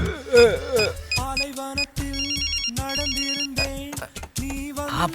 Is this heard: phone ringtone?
yes